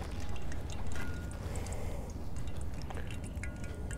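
Fish cooks over a campfire on a sandbar, giving a steady close sizzle with scattered tiny pops and crackles, quiet and continuous.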